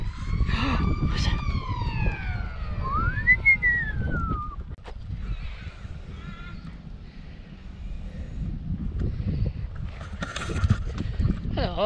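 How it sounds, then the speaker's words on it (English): A school siren wails in a rising and falling electronic tone across a park, heard at a moderate distance alongside outdoor ambience and brief voices. "School siren."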